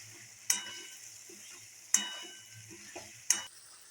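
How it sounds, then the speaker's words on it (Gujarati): A spatula stirs stuffed green tomatoes cooking in hot oil in a pan, giving three sharp scraping knocks spaced about a second and a half apart over a soft, steady sizzle. "હવે તેલમાં ઘડીક વાર આપણે ચડવા દેવાના છે। આ રીતે આપણે હલાવી લેવાનું।"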